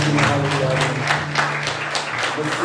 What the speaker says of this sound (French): Applaudissons au Seigneur pour sa gloire et pour sa victoire.